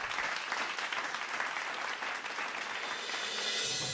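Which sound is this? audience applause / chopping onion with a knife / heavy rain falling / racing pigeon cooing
audience applause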